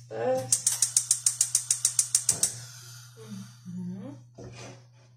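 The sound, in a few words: gas stove being switched on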